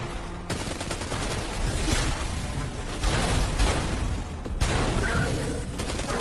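Massed gunfire in Ultimate Epic Battle Simulator, a dense crackling fusillade of overlapping shots with sharp bursts and brief lulls, loud and continuous throughout.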